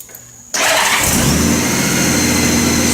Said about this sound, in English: I'm going to start it up and just let the engine warm up for a few minutes